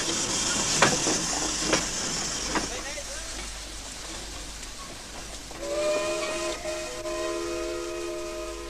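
A steam locomotive whistle sounds steadily in the latter half over a constant hiss of steam and machinery, preceded by a few sharp clanks, from a European-built engine at a sugar mill on Negros.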